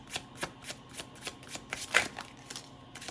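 Tarot cards being shuffled up close in a steady run of quick riffling bursts, roughly three or four per second, each a crisp papery flutter with one louder snap near the middle, no voices.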